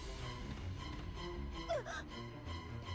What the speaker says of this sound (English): Gasp.